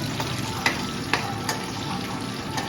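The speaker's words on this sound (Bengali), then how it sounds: "পেঁয়াজ ছেড়েছে, এবার পেঁয়াজটাকে ভাজছে।" Sliced onion fries in a pan with a steady, close sizzle, punctuated by a few light clicks from stirring. No one speaks over it.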